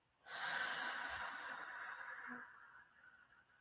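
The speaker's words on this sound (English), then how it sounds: "I want you to inhale for 4 seconds. Ready? Exhale for 6 seconds." A slow breathing exercise: one long, audible inhale and exhale drawn in close to the microphone, swelling quickly and then fading gradually over a few seconds with no talking.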